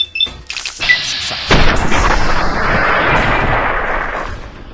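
In the video game Fallout New Vegas, a sharp, loud gunshot cracks out and is followed by a long, rumbling boom that slowly fades.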